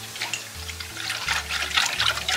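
Water is stirred in a bowl for cireng tapioca dough, a close, steady sloshing and splashing with a low hum beneath and no talk.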